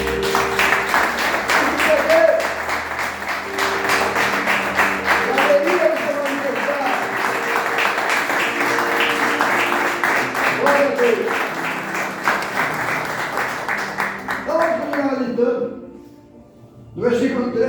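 A church congregation claps in praise, sustained rhythmic applause under singing or a raised voice, fading briefly near the end before resuming.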